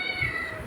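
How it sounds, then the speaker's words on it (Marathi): A house cat meows indoors, a short, fairly close call that is steady and moderate in loudness, with faint household background and no talk. "दुसरं मांजर कुठे आहे?"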